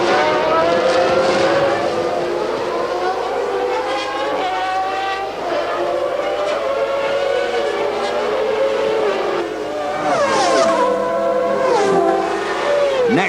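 Formula One race cars at the 1995 Grand Prix scream past with rising and falling high-pitched engine notes, several cars in succession with Doppler sweeps, loud throughout.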